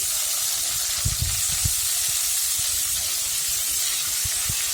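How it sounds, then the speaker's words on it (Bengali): Shing catfish going into a pan of hot oil, giving a steady broad hiss and sizzle with a few soft knocks and bumps near the start, loud and close with no talking. "এখন আমি শিং মাছগুলি দিয়ে দিচ্ছি।"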